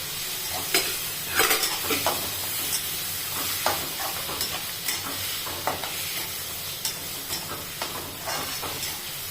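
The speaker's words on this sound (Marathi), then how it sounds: "आपल्याला चांगला कांदा परतवून घ्यायचा आहे टोमॅटो एक मोठा टोमॅटो बारीक कापून घेतलेला आहे" Onion and chopped tomato sauté in a hot pan for a cauliflower dish, with a continuous close sizzle punctuated by frequent scraping and clinking strokes of a spatula, no voices.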